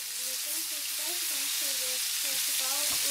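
Cutlets fry in a pan with a loud, steady sizzle and hiss close by, while voices talk over it.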